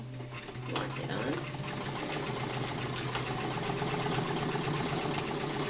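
A sewing machine stitches through a feed bag in a steady, fast, continuous mechanical whir that runs close and loud for several seconds without a break.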